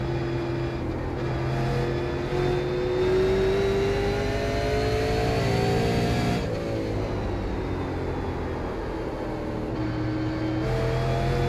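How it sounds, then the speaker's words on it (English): Super late model race car engine in iRacing at Myrtle Beach, snarling and revving steadily at close range throughout, the pitch rising and falling as it works through the gears, with no talk over it. "the car's definitely looking like it's snarling there"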